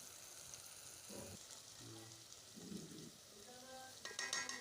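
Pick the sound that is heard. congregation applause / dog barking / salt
salt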